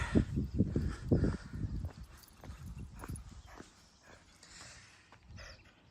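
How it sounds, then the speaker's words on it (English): A dog pants hard and fast during a short morning trail run, close to the microphone. The rapid rhythmic breaths are loud at first and then grow softer and more irregular. "My dog's over here breathing hard."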